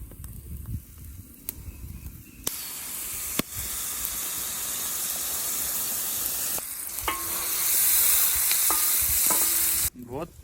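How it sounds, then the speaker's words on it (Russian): Salt is stirred and roasted in a large outdoor frying pan set up as a grill for potatoes and skewered meat, giving a steady loud sizzle and hiss with scraping stirs and a few sharp knocks. "Вот засыпали солью ее, прожариваем хорошо."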